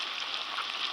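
Onions frying in hot oil in a wok with ginger-garlic paste and turmeric, a steady close sizzle that carries on without a break and without any talking.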